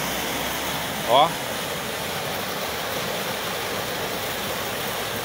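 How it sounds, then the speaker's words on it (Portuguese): Rain-swollen Ribeirão dos Toledos stream in Santa Bárbara d'Oeste flows on a rainy morning after a storm, giving a steady, even rushing wash throughout, with a brief spoken interjection near the start. "O som da água, o ribeirão fica limpo"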